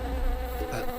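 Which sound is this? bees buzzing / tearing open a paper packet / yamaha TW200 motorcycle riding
bees buzzing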